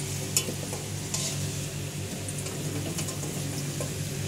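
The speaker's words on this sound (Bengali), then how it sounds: "আলুগুলো দেখতে পাচ্ছ এখানে আমরা হালকা করে ফ্রাই করে নিচ্ছি" Potatoes lightly frying in a pan give a soft, steady sizzle with a few faint stirring scrapes and clicks, quiet and close, with no voices.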